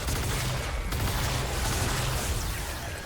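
Vacuum Tube Shotgun firing in Fortnite: Save the World, heavy booming blasts laid over dense, loud combat noise, with a sharp crack near the one-second mark and a sustained rumble afterward.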